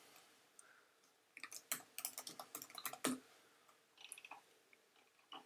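Fast bursts of computer keyboard typing, close and fairly faint, come in clustered clicks with short pauses in a quiet room, with no talking.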